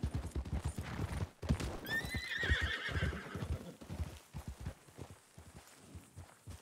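Horse hooves clip-clop steadily in the El Rancho RP video game, with a whinny rising partway through and the rhythmic hoofbeats continuing close and clear to the end.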